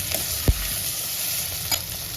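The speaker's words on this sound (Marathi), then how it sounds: "आणि आपण आता हा चिरून ठेवलेला दोडका टाकायचा" Chopped ridge gourd dropped into a hot pan, a brief thump followed by a steady loud sizzle with faint stirring, no talking.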